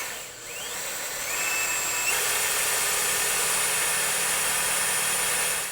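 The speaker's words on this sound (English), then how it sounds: "the way I have to drill my hole is different because I already have a hole there" A power drill whines steadily while boring a hole beside an existing hole during a Show Chrome Slayer sequential LED light install on a Can-Am Spyder, its high motor tone rising in pitch before holding a continuous drone.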